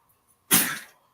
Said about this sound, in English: Sounds like somebody's got some kennel cough or something